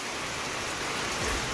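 Heavy rain pouring down on a hot summer day, a dense, steady, fairly loud hiss of drops hitting surfaces, with a low rumble swelling near the end and no voices.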